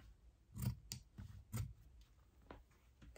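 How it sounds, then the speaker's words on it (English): Scissors trim away excess fabric from a cosmetic zipper bag, giving a few sharp, quiet snips spaced irregularly against a near-silent background. "I'm gonna trim down that extra fabric."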